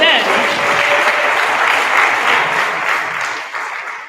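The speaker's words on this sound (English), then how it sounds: "You can also give a preemptive round of applause for all of the work" A rehearsal audience breaks into a steady round of applause, dense and fairly loud, sustained for a few seconds before tapering slightly at the end.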